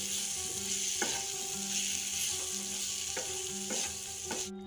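A quick carrot pickle with roasted spices and amchur powder cooks in a pan, giving a soft continuous sizzle with a few spoon scrapes at regular intervals and a faint steady hum underneath.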